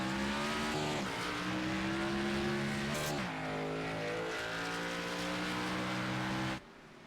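Race car engines from a sim racing game at Circuit of the Americas drone loudly and continuously, pitch climbing through gear shifts with a couple of brief dips, before cutting to quieter background near the end.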